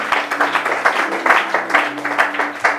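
A congregation in church claps together in a steady rhythmic beat, loud and near, over a low sustained musical tone.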